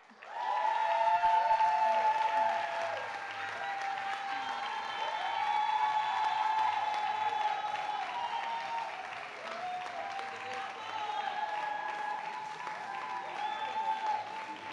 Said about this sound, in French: Applaudissez très très fort, particulièrement les femmes.